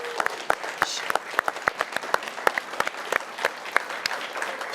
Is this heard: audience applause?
yes